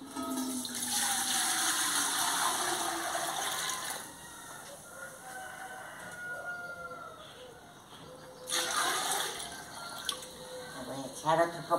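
Water pouring into a pot for ragi atole in a rural kitchen, two gushing splashes separated by quieter moments, with a rooster crowing and someone speaking nearby.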